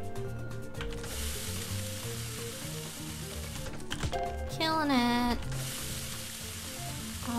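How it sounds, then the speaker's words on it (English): Food sizzles and fries in the restaurant cooking game Cook, Serve, Delicious!, a steady hissing crackle running underneath game music and chimes while someone speaks briefly. "That sizzle, man."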